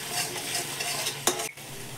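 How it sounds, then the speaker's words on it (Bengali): Spices are stirred and fried in hot oil in a pan, a steady close sizzle with a scraping stir stroke, then a brief pause. "চলো মশলাটা আরও খানিকক্ষণ কষা হবে এরকম করে।"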